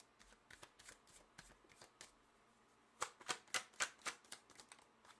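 Tarot cards being shuffled by hand, soft riffling patter that turns into a series of sharper, louder flicking bursts in a quick rhythm, close up and with no talking.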